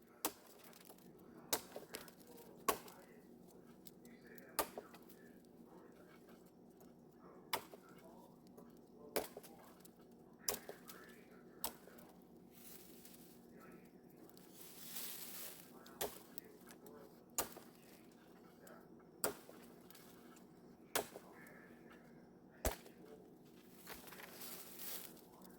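A WC Knives parang chops a dry dead log outdoors, landing a dozen or so sharp, slapping blows at an irregular pace against a quiet background.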